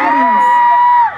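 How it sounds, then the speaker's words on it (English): A live audience at an outdoor creatives market music performance screams and cheers in one loud, sustained burst of high shrill voices that cuts off at the end. "can I hear ladies screaming?"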